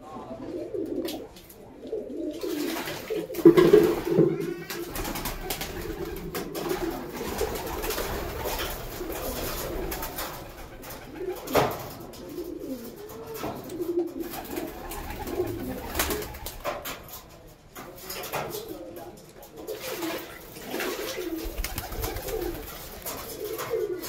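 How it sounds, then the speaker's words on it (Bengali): Pigeons coo repeatedly nearby as they bathe in water with potash, amid soft splashing and fluttering, a steady low murmur of birds continuing throughout. "এইভাবে আপনারা আপনাদের কবুতরকে স্নান করান"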